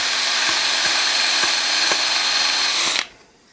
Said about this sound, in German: ein Loch bohren